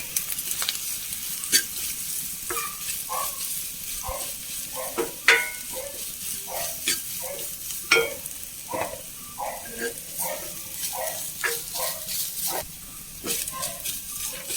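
Softened onions and grated coconut sizzle in a pan while a spoon stirs them, with a low frying hiss broken by repeated scraping strokes and occasional clinks, fairly close.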